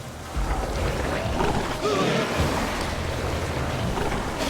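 Heavy rain hisses steadily through a stormy Lost Island level in Ghostbusters: The Video Game Remastered, with a low rolling thunder rumble swelling midway through the continuous downpour.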